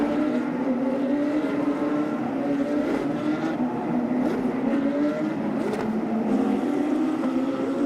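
Porsche Cup race cars compete at Shanghai in 2010: a continuous loud engine drone from several cars, its pitch rising and falling as they go through a right-hand corner, with no voices over it.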